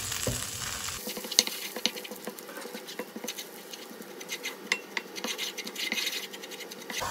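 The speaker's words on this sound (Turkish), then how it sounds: "Yemek kaşığı unumu, soğanı alıp un kokusu çıkıncaya kadar kavurmaya başlıyorum." Flour and onion toast in a pan while being stirred for Hünkar Beğendi, giving a soft continuous sizzle with dense crackling and scratchy stirring. It stays close and fairly quiet throughout.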